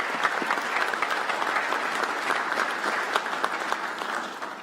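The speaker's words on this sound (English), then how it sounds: "give them a round of applause for sharing their" A large audience at a police promotions ceremony applauds steadily for family members, a dense, even wash of clapping that holds at a moderate level throughout and tapers slightly at the end.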